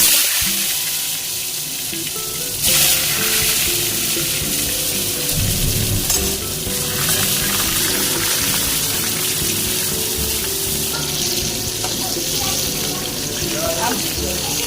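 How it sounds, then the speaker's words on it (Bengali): Pieces of pointed gourd (potol) dropped into hot oil in a wok, giving a loud, continuous frying hiss that stays dense and steady throughout. "পটলগুলো তেলে ছেড়ে দিচ্ছি।"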